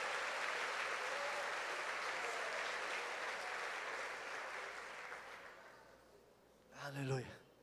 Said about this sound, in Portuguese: Pode aplaudir ao Senhor, pode dar glória a Deus